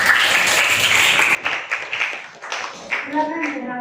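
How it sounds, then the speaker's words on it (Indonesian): Students in a classroom give a short burst of clapping for a group that has just presented. It breaks off after about a second and a half, leaving scattered chatter and voices. "Beri tepuk tangan untuk kelompok 2"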